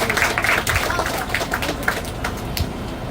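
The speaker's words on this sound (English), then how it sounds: "Give them a round of applause with you." An audience at a steel topping-off ceremony for an elementary school in Elizabeth applauds, a dense, even patter of many hands, moderately loud and fading slightly over a few seconds.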